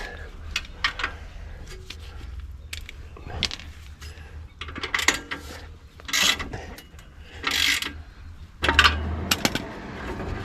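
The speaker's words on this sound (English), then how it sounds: "Ratchet." Ratchet loosening tight bolts on the rear brake of a Chevy truck in a driveway, heard as repeated short rasping clicks in bursts with pauses, close and moderately loud, mixed with light handling noises.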